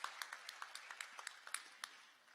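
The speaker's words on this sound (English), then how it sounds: "Another big round of applause for Niti Anand." An audience at a live event applauds for a guest, a faint, thin spatter of scattered claps with distinct individual hits, steady for a couple of seconds and then trailing off.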